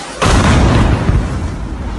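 A drone strike explosion hits as a sudden loud boom, then a dense, roaring rumble that holds steady for the rest of the two seconds, heavy in the low end with no voices.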